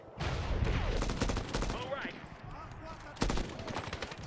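Rapid bursts of automatic gunfire from the video game Medal of Honor (2010), dense and loud, with a second volley near the end.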